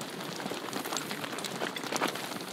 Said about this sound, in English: The hooves. When they are walking.